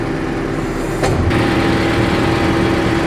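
A CLAAS ARION 470 tractor engine runs steadily nearby as the hydraulics are lowered, a brief whine cutting in about a second along before the loud engine hum carries on.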